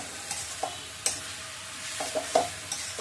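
A potato curry with cumin and coriander powder is stirred in a pot over a soft sizzle, with a few scattered scraping and tapping strokes of a spoon against the pot.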